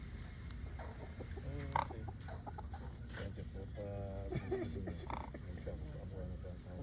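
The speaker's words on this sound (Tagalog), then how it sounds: "Ah, talagang kakaibang manok." Unusual-looking chickens cluck and cackle in short bursts over a busy farmyard background, several nearby birds calling repeatedly at moderate loudness.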